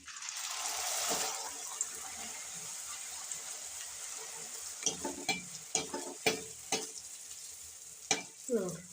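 Poori frying in hot oil, a bubbling sizzle that swells early and then carries on under a series of sharp stirring clinks and splashes, close and moderately loud.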